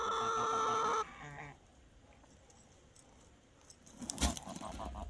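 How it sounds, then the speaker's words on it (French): Old hens and a small rooster in a pen, with clucking and farmyard sounds, a loud stretch at the start, then quieter scuffling and a brief burst near the end. "ça c'est toutes mes vieilles poules, hein. C'est le parc avec les vieux. Là j'ai mon petit coq"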